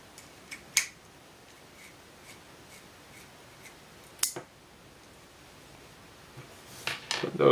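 Pivot screws being removed from a folding knife: a few sparse, sharp small clicks and taps of a tool on metal, close and quiet, separated by long silent gaps, with a cluster of scraping handling noise at the end.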